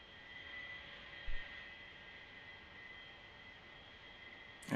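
A simulated A-4 Skyhawk jet engine in the DCS flight game is throttled up for taxi, giving a steady, fairly quiet whine and rumble with a faint rise at the very end.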